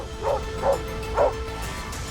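A pit bull barking at a herd of wild horses: three short yelping barks at an even pace, heard from some distance over a low outdoor rumble.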